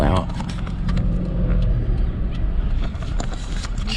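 A car slows and pulls over, its engine rumbling steadily from inside the cabin with small clicks and rattles, while people talk throughout.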